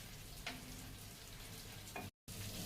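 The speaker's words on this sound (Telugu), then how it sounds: "ఇప్పుడు ఈ చేపలు ఇటు సైడ్ ఫ్రై అయిపోయాయి అనమాట" Fish pieces fry in a pan with a steady, close sizzle and a couple of faint clinks, running briefly with a short dropout near the end and no speech.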